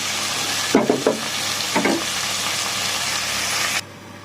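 Tomatoes sautéing in a pan for a stir-fried chayote vegetable dish, a steady loud sizzle with a few clunks of stirring near the start, cutting off abruptly before the end.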